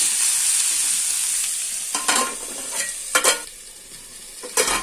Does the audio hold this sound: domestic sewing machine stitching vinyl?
no